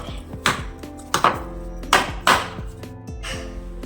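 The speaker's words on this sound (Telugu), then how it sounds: "ఇదిగోండి కొబ్బరి కాల్ చేసిన తర్వాత పగొడితే" A whole coconut is struck hard several times to crack it open, giving four or five sharp, close knocks at uneven intervals, each with a brief ringing tail, and no talking.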